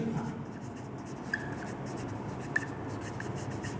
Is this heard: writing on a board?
yes